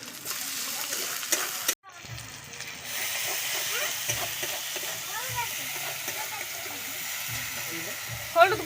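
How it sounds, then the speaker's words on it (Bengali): Ginger and garlic frying in oil in a pan, a soft steady hiss and sizzle with a sharp burst of spitting early on, faint and close, with brief stirring and low background voices. "আদা রসুন ভালো করে আমি আদা রসুনটাকে কষিয়ে নেব।"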